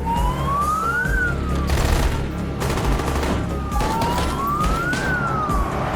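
Police car sirens wail during a movie car chase, rising and falling in slow sweeps over loud engine roar and crashing, gunfire-like bursts, with the chase noise dense and close throughout.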